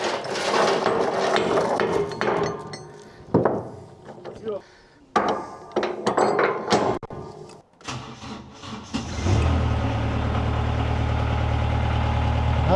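A vehicle engine turns over with uneven mechanical clatter and knocks, then catches and settles into a steady, loud low idle for the last few seconds.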